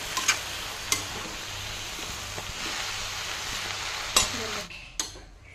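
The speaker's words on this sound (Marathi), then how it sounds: "आता ही भाजी फिरवून घेत आहे।" Khaparkhuti (punarnava) greens fry in oil with green chilli and salt, a low, even sizzle broken by sharp clicks of a spoon against the pan before the sound drops away at the end.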